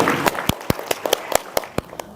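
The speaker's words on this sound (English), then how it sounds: "please give our speakers a round of applause" Scattered clapping from a conference audience thanking the speakers, a dozen or so sharp distinct claps spaced irregularly, fairly close, fading out rather than building into full applause.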